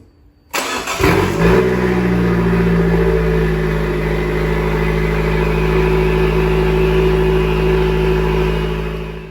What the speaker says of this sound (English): let's go ahead and start the engine with the funnel still inside the reservoir